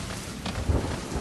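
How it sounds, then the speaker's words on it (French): Thunder in rain for an audio drama set in Raccoon City gives a low, close rumble that swells briefly midway over steady rain noise. No voices are heard. "Il y a un grondement de tonnerre."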